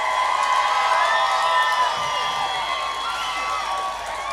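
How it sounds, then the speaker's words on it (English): A rally crowd at an anti-abortion march in Brisbane cheers and applauds loudly and continuously, with whoops and shouts over dense clapping filling the whole stretch. "Give them a cheer."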